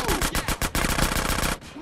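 Rapid bursts of automatic gunfire in GTA San Andreas Definitive Edition during a Grove Street versus Ballas gang fight, a dozen or so sharp shots in quick succession that stop abruptly near the end.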